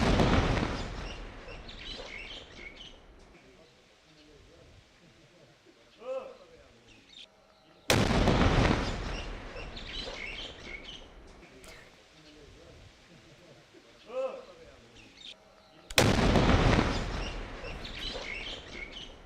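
A bomb disposal squad detonates an IED planted by militants, a loud explosion that recurs three times as sharp broadband blasts, with birds chirping in the quiet stretches between them.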